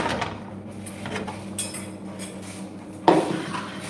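Plates and dishes knock and clink during washing at a household sink, with steady scattered clatter and a sharper, louder clank near the end over faint background noise.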